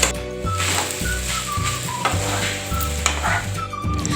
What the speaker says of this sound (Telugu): ఇప్పుడు వీటన్నిటిని బాగా కలుపుకోవాలి